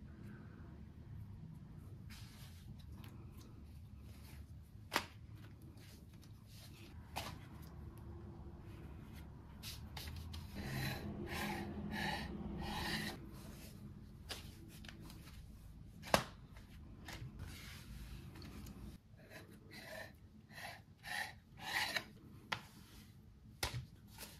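Yufka pastry sheets are cut into pieces and handled while making fried minced-meat avcı böreği, giving quiet, close, crinkly rustles and scrapes with a few sharp taps.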